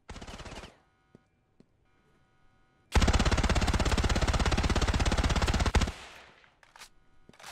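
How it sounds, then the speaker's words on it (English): Rapid automatic gunfire in Ravenfield from a Beretta ARX160 rifle, a short burst, then near silence with a few faint pops, then a long loud unbroken stuttering loop that cuts off abruptly, followed by scattered distant shots. "And there we had that sound loop break again."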